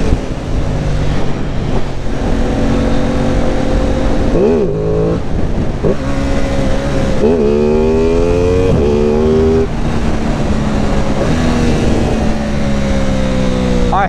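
Aprilia Tuono 660 motorcycle engine revs and climbs through gears while riding, loud and close with rising and falling pitch sweeps over steady wind rush.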